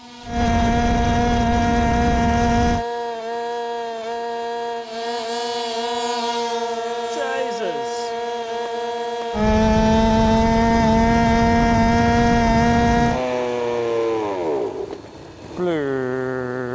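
A GO-PED SHR motor scooter engine screams at top speed, a loud, sustained high-pitched buzz that fades and pitches down, returns, then drops away as the scooter slows.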